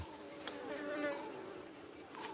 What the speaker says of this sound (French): il y a des abeilles, il y a des guêpes